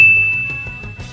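A bright notification ding of a subscribe bell sound effect, one sustained high tone ringing out alone and slowly fading over about a second.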